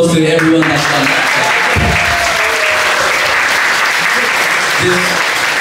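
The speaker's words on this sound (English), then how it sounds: "So a round of applause to everyone that's done that." Loud, continuous applause from an audience at a fitness exhibition honoring guest speakers, a thick wash of clapping close by with voices and cheers rising through it.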